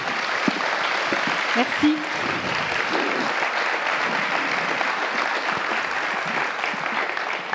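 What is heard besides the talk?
audience applause for four presenters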